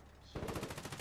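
Rapid machine gun fire from the war video game Foxhole bursts in after a quiet moment, a fast, loud, steady rattle of shots filling the rest of the clip.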